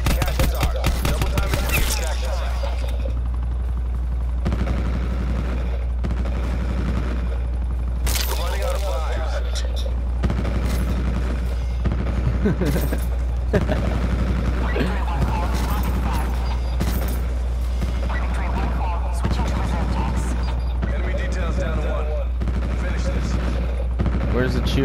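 An attack helicopter in a video game on the Artifact map fires repeated bursts of sharp, cracking gunfire, some rapid and machine-gun-like, loud and close, with a constant low drone and voices talking throughout.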